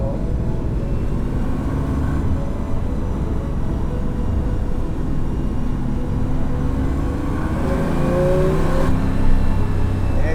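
A Porsche 911R engine, heard through an open window, roars continuously and loud, revving and rising in pitch as it accelerates, with no voices.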